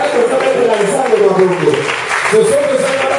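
Worshippers in a church service cheer and shout praise in a continuous crowd roar, voices rising and falling with some scattered clapping mixed into the dense, steady din.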